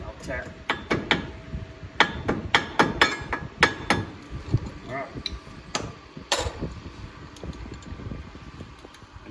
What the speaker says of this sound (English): then we'll take the hammer